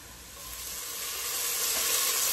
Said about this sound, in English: we'll put our onions in and we will saute those onions just for a minute or so on the medium heat